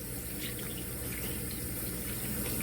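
Running tap water pours steadily into a sink while hands are washed, a close continuous rushing hiss with no talk.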